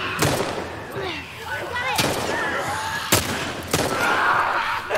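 A grenade goes off in The Last of Us during a fight with clickers, among several sharp broadband blasts that stand out over constant game noise and shouted talk.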